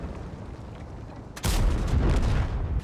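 The IS-3 tank's main gun fires in World of Tanks, one heavy booming shot that breaks in abruptly over a steady engine rumble and leaves a long, rolling low roar.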